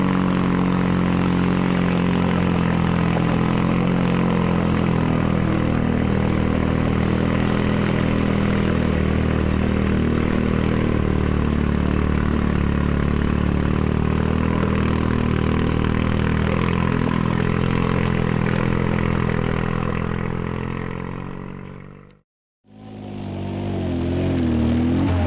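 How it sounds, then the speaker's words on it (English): A two-stroke Trojan car climbs a loose-surfaced hill at Norman's Hump during the 2019 MCC Exeter Trial. Its loud, steady, buzzing engine drone runs throughout, with a brief cut near the end. "The distinctive sound of John Wilton's two-stroke Trojan is the first car we see tackle the climb at Norman's Hump."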